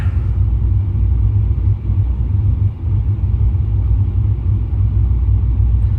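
A 2004 Pontiac GTO idles steadily, a loud, low, continuous rumble with an even, unchanging throb and no revving, with no voices over it.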